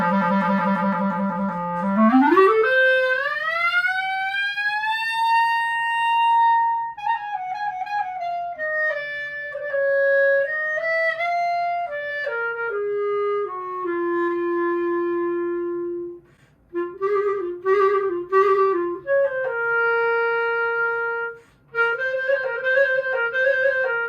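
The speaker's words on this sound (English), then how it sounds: "I'm gonna do some Rhapsody in Blue just because I like that excerpt" Arthur Uebel clarinet plays the Rhapsody in Blue excerpt, opening with a low trill and the famous rising glissando, then a flowing melodic line with short pauses, solo, clear and close, with no talking.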